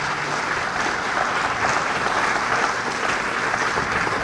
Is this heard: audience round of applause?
yes